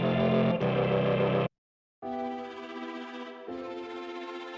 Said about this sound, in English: With a tremolo effect, with a high reverb, and a lower volume.